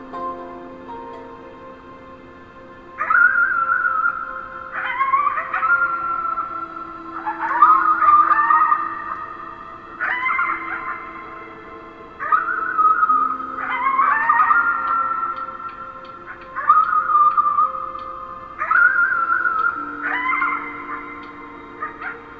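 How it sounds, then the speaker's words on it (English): A dog howling at the moon in the video game Before Your Eyes: long, wavering howls repeated over and over in steady succession, loud and clear above a faint background with no talk. "You howled at the moon at the top of your lungs."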